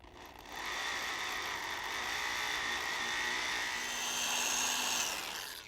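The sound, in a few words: drill boring a pilot hole into a bolt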